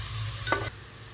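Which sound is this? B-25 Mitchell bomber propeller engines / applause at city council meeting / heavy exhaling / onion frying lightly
onion frying lightly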